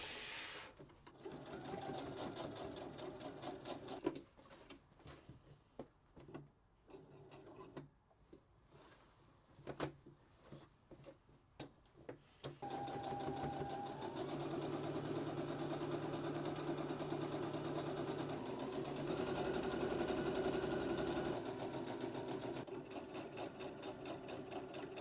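A domestic sewing machine runs steady stitching runs along the edge of a Samue jacket, a Japanese work jacket, with short bursts, stops and restarts early on, then a longer continuous mechanical hum close by.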